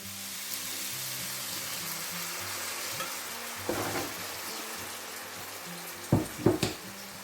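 Port wine hits a hot pan of chicken liver and chorizo with a steady, bright sizzle that runs throughout, broken by a few sharp clinks of a utensil against the pan near the end.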